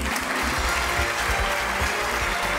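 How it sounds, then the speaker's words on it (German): A studio audience on the Austrian quiz show Die Millionenshow breaks into applause after a correct answer, a dense, even wash of clapping with music or a low hum beneath. "Applaus"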